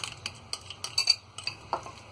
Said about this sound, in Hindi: सारी चीजों को अच्छी तरह मिक्स कर लेंगे।